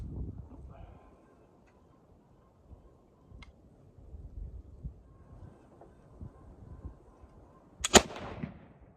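A flintlock Elliott Pattern Light Dragoon carbine of 1759 fires once near the end, a single sharp loud bang, after quiet outdoor background with light wind and handling noise.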